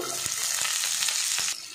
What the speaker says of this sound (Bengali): এবার এই তেলের মধ্যে দেখুন পেঁয়াজ দেব, লঙ্কা কুচি আর দিয়ে দেবো সামান্য পরিমাণে রসুন কুচি।